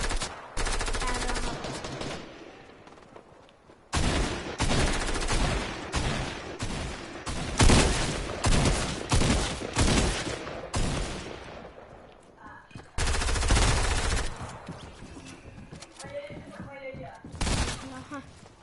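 Bursts of automatic gunfire and volleys of shots in a PS4 video game recur across the clip, loud and close, with player voices talking between and over them.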